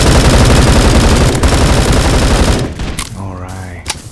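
Dense, sustained automatic gunfire from the online shooter game Bullet Force, loud and continuous for over two seconds before thinning out into scattered shots and game effects.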